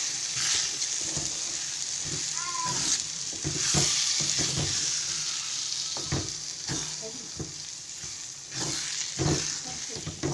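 Egg podimas sizzles and fries in a pan as it is stirred, with steady hiss broken by repeated scraping and clinking strokes of the spoon, a faint voice now and then.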